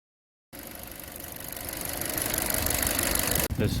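Kia K5 engine idling steadily after new spark plugs and ignition coils were fitted, a smooth, even hum close by that starts abruptly after a short silence and holds without stumbling, with no talk.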